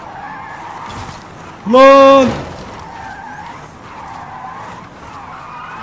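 A Hyundai Ioniq 5 N electric hatchback tuned to 1900 horsepower drifts in Forza Horizon 5, giving one loud, rising tire squeal of about half a second amid a low engine hum, with someone talking briefly.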